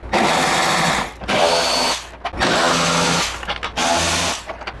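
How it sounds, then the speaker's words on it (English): A power tool drives out motorcycle fairing screws in several whirring bursts, each about a second long with short pauses between them, loud and close. "We'll start by taking out those 4 screws"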